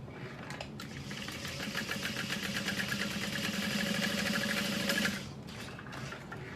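A sewing machine runs close up for several seconds, a fast steady mechanical whirr of stitching around the sides of a barrel bag, then stops and slows to quieter clicks.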